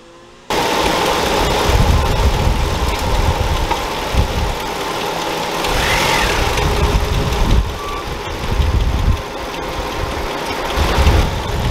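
A car engine runs steadily with Pepsi soda in place of coolant, smoke rising from under the hood; a loud continuous rumble with a faint beeping tone throughout and no talk.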